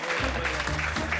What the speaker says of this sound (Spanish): El aplauso de Rudy Rey.